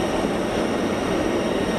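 A small Embraer Phenom business jet at Geneva Airport makes a loud, close, continuous broadband engine rush that holds steady over a short moment.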